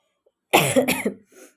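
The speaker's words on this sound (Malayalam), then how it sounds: "നിങ്ങൾക്ക് ഈ ചുമ ഒരു ഡിസ്റ്റർബൻസ് ആവുന്നുണ്ടെന്ന് എനിക്കറിയാട്ടോ" A single close, loud cough burst with two quick pulses, followed by a faint softer exhale, in an otherwise quiet room.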